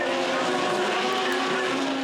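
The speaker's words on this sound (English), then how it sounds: "You hear the scream, you hear the whine, the RB30 in the front car, powering out" Drift car with an RB30 engine at ASB Baypark Stadium, a loud, sustained high-pitched scream and whine as it powers out, with tyre noise underneath.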